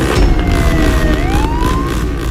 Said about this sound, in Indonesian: Mobil polisi ini tidak bisa mengejarnya.